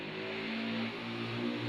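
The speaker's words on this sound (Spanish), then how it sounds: "la moto, Dios mío" Motorcycle engine revving close by, a continuous loud droning roar with shifting pitch that swells slightly as it passes, no voices.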